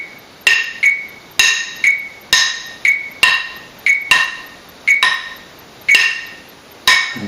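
Sharp, evenly spaced clicks with ringing metallic overtones, roughly ten strikes over several seconds, loud and close, each one decaying quickly, with no talk over them.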